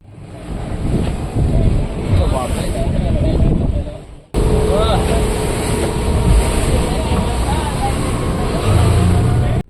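A speedboat engine roars loudly at close range on the open sea near Pattaya, Thailand, with wind buffeting and water rushing past, a brief cut midway before the rumble resumes.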